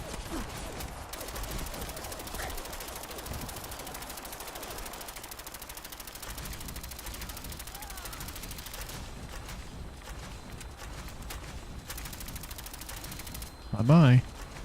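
Rapid, sustained automatic gunfire rattles on and on in a Fallout 4 firefight against a vertibird, dense and continuous, ending in a louder burst with a voice near the close.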